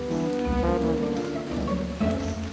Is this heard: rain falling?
yes